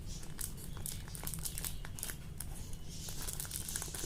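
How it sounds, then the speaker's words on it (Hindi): Scissors work through packing tape on a parcel, giving a continuous close crinkling and rustling of tape and wrapping with no pauses. "तो ये टेप के बीच बीच में सीजर चला लो।"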